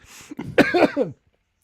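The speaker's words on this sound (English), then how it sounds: "Coughing." A few harsh, throaty coughs in quick succession, close and fairly loud, then silence.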